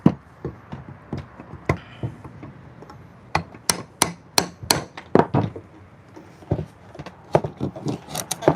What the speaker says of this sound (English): So I'm getting my nail puller to try see if I can get these 2 nails.